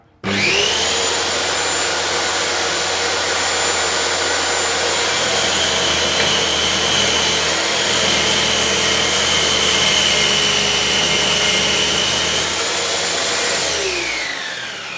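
A power saw on an angle-cutting jig whines at a steady high pitch for the whole stretch, loud and close, its tone dipping slightly as it works through wood before winding down.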